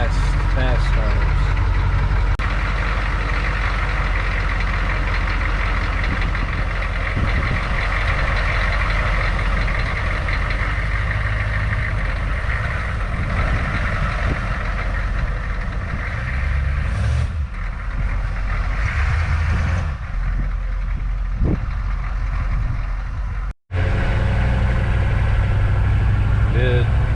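A Humvee's diesel engine idles and rumbles on a snowy day, steady and close, with a brief cutout near the end, while people talk over it.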